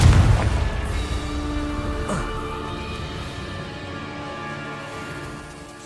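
A Confringo blasting spell bursts in the Hogwarts Legacy video game: one loud, booming explosion at the start that rumbles on and slowly decays, with a smaller crackling burst about two seconds in.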